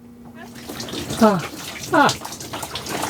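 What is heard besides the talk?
water running down the drain in a van shower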